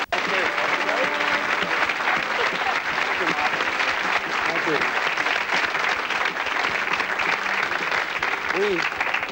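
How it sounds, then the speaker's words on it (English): Steady, loud applause from a studio audience at a 1978 television game show, a dense unbroken wash of clapping lasting the whole stretch, with faint voices mixed in. "How about a big applause?"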